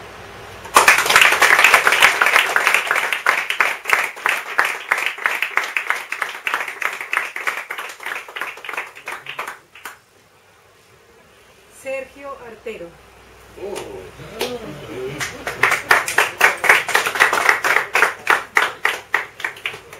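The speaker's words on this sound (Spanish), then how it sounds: "Gracias por los aplausos" Audience at a poetry festival in Medellín applauds loudly in a burst of rhythmic clapping that fades, then a brief quiet with a few spoken exclamations, followed by another round of clapping building up near the end.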